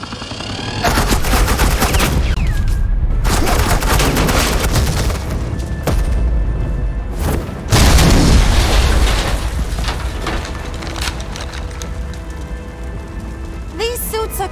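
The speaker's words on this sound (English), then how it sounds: "suppressing fire" Suppressing gunfire in the video game Batman: The Enemy Within, a dense, sustained burst of shots and crackling impacts running nearly throughout, loud and close, with a brief lull and a heavier blast partway, under game music and voices.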